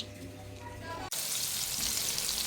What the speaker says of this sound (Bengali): এদিক দিয়ে ইলিশ মাছের ভাজি করা হচ্ছে